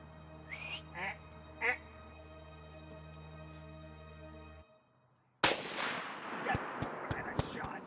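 During a hunt, a single sharp, loud gunshot cracks after a brief hush and rings out with a decaying tail. Duck-like quacking calls sound earlier.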